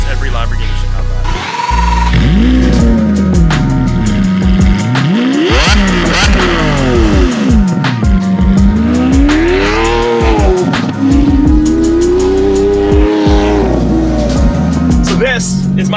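Lamborghini Aventador V12 with a straight-piped Velocity AP exhaust, driven through deep snow, roars loudly and continuously with rising and falling revs, sharp throttle blips and sweeping pitch changes, close and dominant throughout.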